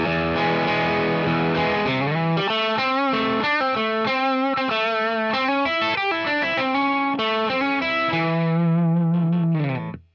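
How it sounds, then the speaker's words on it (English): An electric guitar with heavy distortion plays the closing four bars of the riff as a run of rhythmic, chugging notes and chords, loud and close, ending on a sustained chord that cuts off. "And altogether, the last four bars sound like this."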